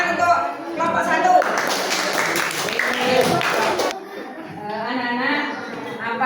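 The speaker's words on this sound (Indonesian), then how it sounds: "Tepuk tangan untuk kelompok 1." Classroom applause from young third-grade pupils after a group presentation, a short burst of clapping in the middle with children's chatter and a teacher's voice around it.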